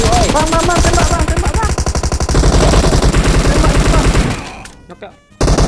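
Rapid automatic gunfire from PUBG Mobile rattles in fast loud bursts, then thins to a few scattered shots and stops, while players talk during the match.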